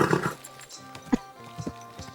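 Horse hooves clip-clopping at a walk in Kingdom Come Deliverance 2, several soft, evenly spaced hoof thuds over a low background with a faint game score underneath.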